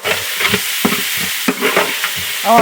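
Steady sizzling of rice tempered with turmeric in a hot frying pan, with scraping, stirring strokes of a utensil against the metal, close up and continuous.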